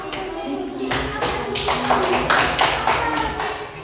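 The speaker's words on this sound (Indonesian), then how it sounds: "Oke, tepuk tangan untuk kita semua." A classroom full of people claps steadily for several seconds, loud and close, with a few voices underneath.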